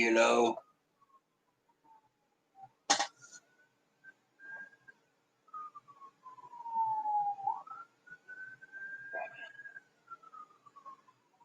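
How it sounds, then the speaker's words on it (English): A siren wails faintly in the distance, its tone rising and falling in long sweeping glides, with a couple of sharp knocks and brief noises nearby. "Ambulance or something. You always hear them."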